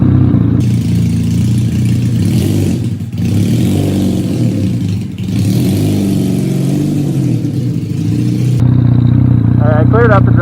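Supercharged Honda CL175 motorcycle engine running loud and steady in first gear, a rough mid-pitched drone with brief dips, then changing character near the end as a voice speaks over it.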